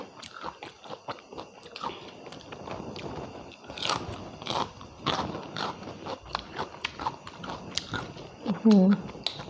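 Close-up biting and chewing of blanched seafood with a Thai-style dipping sauce, soft wet crunches and chews repeating in an uneven rhythm, with a voice murmuring and humming in between.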